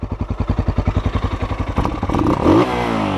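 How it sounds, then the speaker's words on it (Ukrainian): A Tekken 250 motorcycle engine, still cold, idles with a rapid, even exhaust putter, then briefly revs up louder with a rougher, rising roar. "Такий вихлоп, ще не нагрівся"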